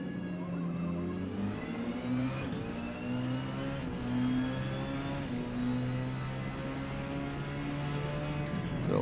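A Porsche 919 Hybrid race car in Forza Motorsport laps X class at Kyalami, its engine revving up and down through gear changes, with other cars droning close by throughout.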